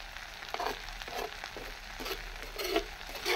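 Keerai greens cook in a pan over a low flame, giving a soft, steady sizzle with a few brief stirring scrapes and no voices.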